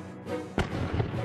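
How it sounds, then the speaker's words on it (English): Cannon firing: a single deep, sharp boom bursting out over a murky rumbling background, followed by a short rolling tail, with no voices. "He imagined firing a cannon from the top of an extremely tall mountain."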